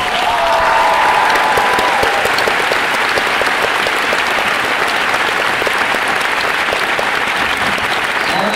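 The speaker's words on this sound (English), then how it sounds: "I'd like you all to give him a very big round of applause" Sustained, dense round of applause from a convention audience at a Star Wars fan event, steady and loud for the full length with no talk over it.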